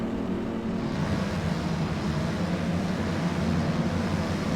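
Motocross dirt bikes in the A-Class at a backyard MX track rev and race off the start gate, a dense, steady engine roar filling the whole stretch with no voices.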